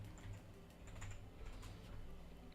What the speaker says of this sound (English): But I am having a hard time typing today.